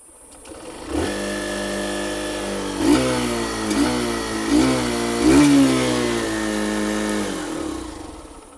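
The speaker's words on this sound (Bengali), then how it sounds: "এবার চলুন এই বাইকটা যে এক্সস্টের সাউন্ড সেটাও আমি আপনাদেরকে একবার শুনিয়ে দিচ্ছি।" A 2026 Hero Super Splendor XTEC 2.0 125 motorcycle exhaust holds a steady, close idle hum, broken by four or five short throttle blips that lift the pitch for a moment and then settle back. No one speaks.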